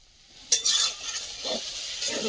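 Vegetables with spinach stalks being stirred and sautéed in a hot pan for a vegetarian home-cooked dish, a sharp scrape of the spatula followed by steady sizzling and a few softer stirring strokes, close and alone.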